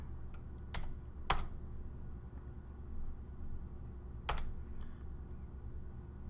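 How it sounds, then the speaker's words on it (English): Keystrokes on a computer keyboard as a command is entered to connect to a service processor: a few sparse, crisp clicks with pauses between them over a steady low hum, no voices. "I type in the command to connect to service processor"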